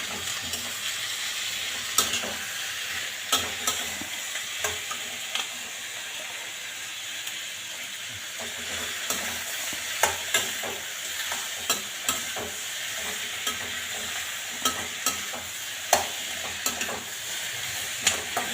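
Two large onions and a large tomato sauté in a pan under a steady, bright sizzle, with frequent sharp clicks and scrapes from a utensil stirring them, close and continuous with no voices.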